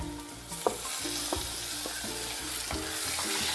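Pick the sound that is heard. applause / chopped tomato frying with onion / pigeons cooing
chopped tomato frying with onion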